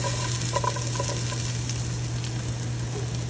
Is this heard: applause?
no